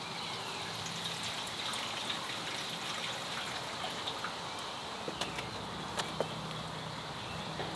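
Gasoline trickling from the fuel line of an old Honda CB450 motorcycle pulled from a barn after 20 years: a thin, continuous liquid hiss with a few faint drips and clicks, quiet and without talking.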